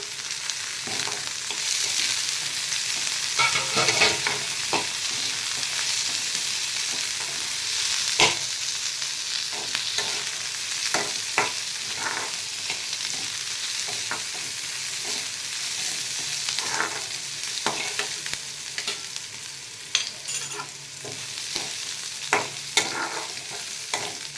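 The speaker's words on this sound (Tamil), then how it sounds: "வெங்காயம் வெங்காயம் மிளகாலாம் நல்லா வதங்கிருச்சு" Onions, green chillies and curry leaves sauté in a pan for cabbage poriyal, a continuous close hiss of frying with repeated scraping and clinking stirs of a spatula throughout, no talk.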